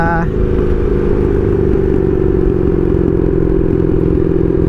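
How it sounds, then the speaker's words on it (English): A Honda Magna 750 motorcycle with straight pipe exhaust runs steadily and loudly up close, a constant rumbling engine drone throughout with a brief higher tone at the start. "who's gonna touch the Magna when she's running this good?"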